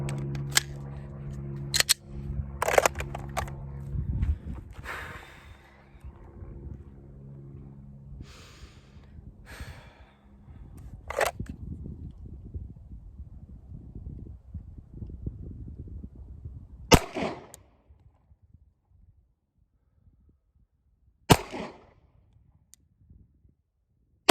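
Pistol rounds fired at a shooting range during 7-yard line practice, several sharp, loud cracks spread irregularly over the stretch, with quieter breathing and handling noise in between.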